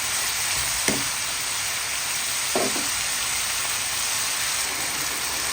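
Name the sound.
sautéing carrots and vegetables in a pan for pancit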